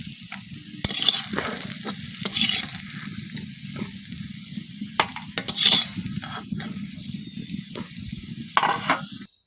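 Potatoes fry in oil in a kadai with a steady sizzle, joined by repeated clinks and scrapes from stirring close by; no voices are heard.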